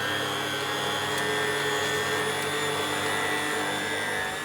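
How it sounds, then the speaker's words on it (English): An electric mixer on slow speed whisks five egg whites, giving a steady, even motor whir with a high whine that drones close and unbroken throughout, with no voices. "I'll just put it in my mixer and I'll just put it on a slow mix first of all"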